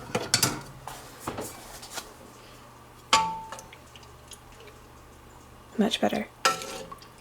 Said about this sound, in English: So I'm just going to use my spoon. And I'm just going to mash them up really good.